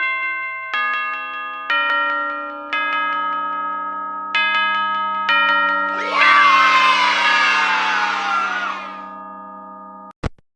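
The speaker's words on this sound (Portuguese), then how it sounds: "você ouve sons de crianças felizes e sinos felizes" In Five Nights at Freddy's, a series of bright chime notes ring out one after another, then a burst of children cheering and shouting joins, fading before a final click.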